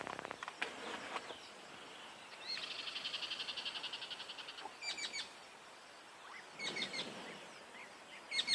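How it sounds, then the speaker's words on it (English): Bubbling kassina frogs calling outdoors after rain at sunset on an African safari, in bursts of rapid, bubbly trills with a few sharp clicks, fairly quiet against a soft background hiss and occasional chirps. "I can even hear bubbling casinas, frogs, after the rain."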